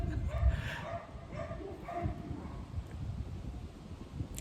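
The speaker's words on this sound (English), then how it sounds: "dogs barking" A few distant dog barks sound early on, short and muffled, over a faint outdoor background hum.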